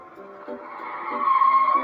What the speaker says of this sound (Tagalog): Tignan nyo, mayroong kotse.